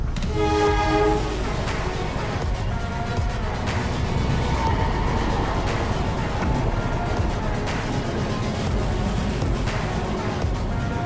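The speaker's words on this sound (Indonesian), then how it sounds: "Ada kereta lewat." A train rumbles loudly past nearby in windy Bandung, Indonesia, its horn sounding at the start over a steady, heavy roar of wheels and wind.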